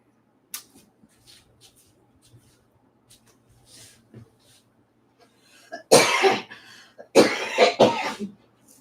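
Several loud, close coughs come in two harsh clusters near the end, following a quiet stretch of faint clicks and shuffling noises.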